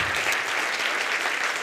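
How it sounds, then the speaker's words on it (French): Applause from a festival audience at the Maison de la Poésie, a dense, even burst of clapping heard up close. "faites un applaudissement à la Maison de la Poésie"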